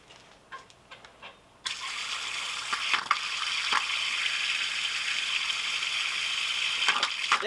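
Water starts flowing and spraying through a revived outboard motor's cooling system, a faint hiss that jumps in abruptly and then continues as a steady splashing rush after a few quiet clicks.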